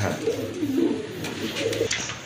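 Pigeons coo close by in a few soft, rolling bursts, one after another, clear and fairly loud with no speech over them.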